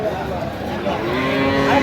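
Cattle low loudly and close at a market selling Friesian and crossbred young bulls, with a sustained moo over a busy crowd background.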